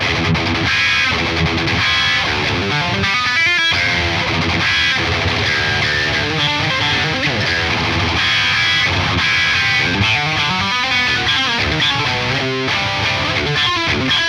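A heavily distorted electric guitar, through a blend of five cabinet impulse responses, plays chugging riffs and sustained chords, loud and dense from start to finish with no talking.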